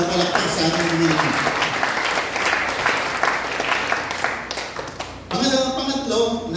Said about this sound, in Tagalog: isa pang malakas na palakpak sa ating Panginoon